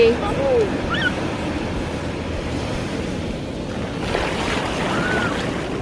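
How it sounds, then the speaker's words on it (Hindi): Ocean waves wash steadily up onto Blue Flag Beach at Puri, a continuous broad roar of surf and wind with a brief swell near the end, while people's voices come and go faintly underneath. "देखो देखो आ रहा है पानी इधर से"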